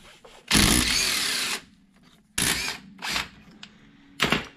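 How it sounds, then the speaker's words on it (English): A cordless impact wrench with a swivel wobble socket working on a Jeep Cherokee axle, loud close bursts: one long buzzing run, then several shorter rattling bursts with brief quiet gaps. "if you don't have a cordless impact with swivel wobble sockets here, man, I don't know what you're doing"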